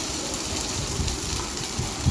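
Suji and vegetable dhoka frying in a little oil on a tawa, a soft, steady sizzle and crackle heard close up, with no talk.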